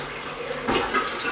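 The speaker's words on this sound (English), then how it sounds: "Can you flush that toilet?" A household toilet in a bathroom with clogged drains is flushed, giving a brief, close surge of rushing water that starts partway through after a quiet moment.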